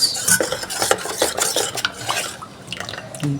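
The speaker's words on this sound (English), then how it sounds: "you have to place it on fire and keep stirring so that it doesn't get burnt" Tangzhong, a flour-and-water paste for bread dough, is stirred in a pot over the heat, with a utensil scraping and clinking against the pot in quick, irregular strokes close by, fading toward the end.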